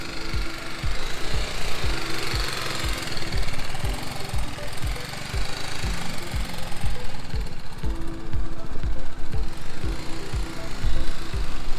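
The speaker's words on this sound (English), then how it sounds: "Controlling that bike at slow speed, so we're going to have her do some weaving." A motorcycle engine idles and pulses at low revs as the bike is ridden slowly through an offset weave exercise in slow-speed riding training, with a steady, close chugging rhythm and broadband outdoor noise running throughout.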